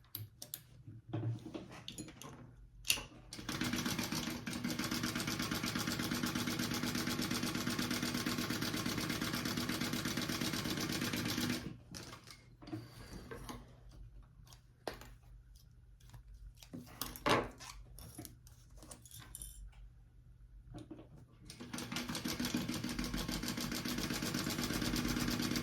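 Sewing machine stitching along the top and bottom edges of a fabric sling bag, steady rapid whirring runs several seconds long separated by short pauses, close and fairly quiet.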